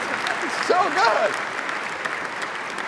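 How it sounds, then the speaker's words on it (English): Audience at a TED-style keynote on passion, change and collaboration breaks into loud, steady applause, with a few voices and cheers rising above the clapping in the middle. "Give a big round of applause."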